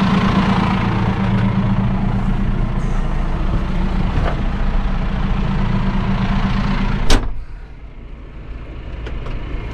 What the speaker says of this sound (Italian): Io adesso risalgo sul trattore